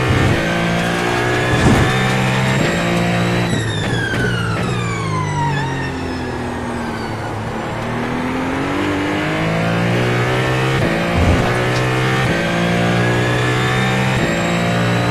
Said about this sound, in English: I love how the engine whines every time I get into the ABS.